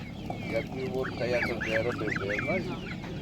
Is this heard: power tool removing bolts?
no